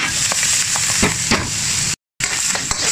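Beef dropped back into a hot pan with sauce sizzles and fries, a steady bright crackle broken by a few louder spatters and stirring scrapes, then a brief total dropout before the sizzling resumes.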